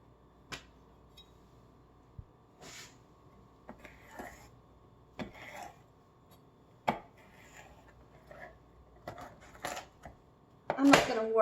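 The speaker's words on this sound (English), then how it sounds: "So cut out as much as you can and chop it up finely." Peppers finely chopped with a knife on a board, sparse crisp chops at irregular intervals in a quiet room, ending with a louder clatter.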